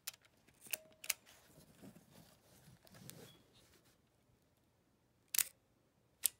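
A Kodak Medalist camera's shutter fires at 1/50 second, giving a few faint, sharp mechanical clicks spaced apart amid quiet handling noise.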